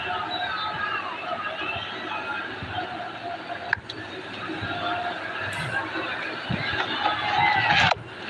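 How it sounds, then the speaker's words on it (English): Crowd murmur fills a cricket stadium during an Asia Cup Super 4 match between India and Sri Lanka, a steady distant hubbub with scattered voices that swells slightly near the end. "Decent crowd here."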